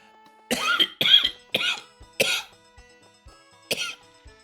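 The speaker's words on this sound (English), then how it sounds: "Still a bit of a cough, but it's almost more of a regular cough." A person coughs in a run of five loud, harsh bursts, four close together and then one more after a short pause, while nursing a lingering cough, with faint soft thumps between.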